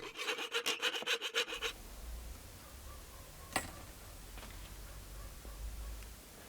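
Quick, rhythmic sawing strokes rasp through wood while cutting out wooden fishing lure blanks, then fade to quieter scraping and a single sharp tap.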